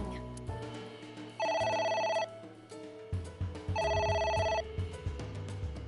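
Repeated electronic phone ringing in the game AI: The Somnium Files, two bursts of bright trilling rings over a steady background music track.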